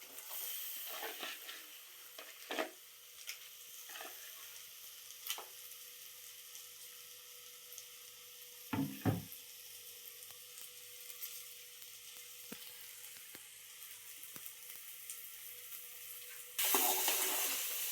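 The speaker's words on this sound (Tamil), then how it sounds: "இப்போ நண்டை போட்டு மிக்ஸ் பண்ணிக்கலாம்." Crab stirred into masala gravy in a pan, with faint steady sizzling broken by scattered scraping and clattering stirs, a couple of louder knocks midway and a burst of noise near the end.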